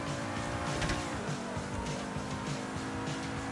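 An Ubermax SC1 supercar from GTA Online drives with a loud, steady engine drone and rising revs, the tone climbing and shifting through gears continuously.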